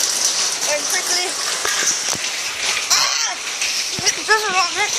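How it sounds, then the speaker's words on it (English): Wind-driven rain from Tropical Storm Cindy pours steadily and loudly on surfaces nearby, a dense hiss with splashes throughout, while chirping birds and brief sounds cut through the downpour. "the wind is blowing the rain towards me"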